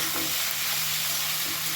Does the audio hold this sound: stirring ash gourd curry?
yes